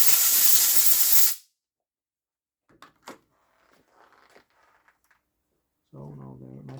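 Compressed air from a workshop compressor blasting over cleaned Honda Miimo HRM40 / Bosch Indego robotic mower wheel motor parts: one loud, steady hiss for just over a second, then quiet handling clicks and a later low hum.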